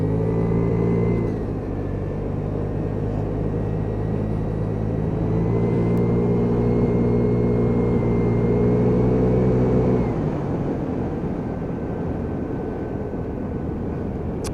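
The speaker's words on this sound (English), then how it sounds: "So ride test over, all good. Little Vespa runs lovely" Early-1980s Piaggio Vespa PX125 scooter on a test ride, its small engine droning steadily and shifting pitch through gear changes, then easing off as it slows, loud and close with no voices.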